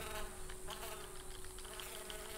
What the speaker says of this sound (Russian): Мухи жужжат там какие-то ужасные.